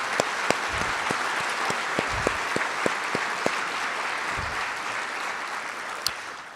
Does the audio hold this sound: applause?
yes